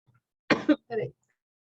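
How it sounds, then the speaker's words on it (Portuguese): Two short, rough coughs from a nearby person in a quiet room, the first a double burst and the second a single softer hack, followed by silence. "A pessoa aparece na gravação tossindo."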